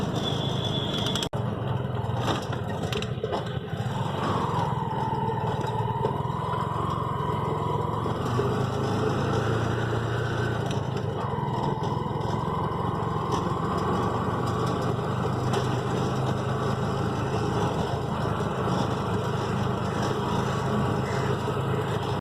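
TVS King auto rickshaw engine running steadily with a constant rough drone and rattle, close and loud for the whole stretch, with a faint high whine rising and falling.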